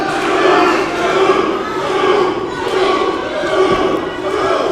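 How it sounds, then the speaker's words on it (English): A live pro wrestling crowd at a Reality of Wrestling TV show reacts loudly to a two count, a sustained roar of many voices rising and falling in waves across the arena, with chanting-like swells and no clear individual words. "The crowd reaffirming that it was a 2 count to Mantell."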